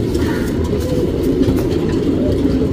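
Racing pigeons cooing in a loft, a constant low murmur of many birds close by, dense and unbroken throughout.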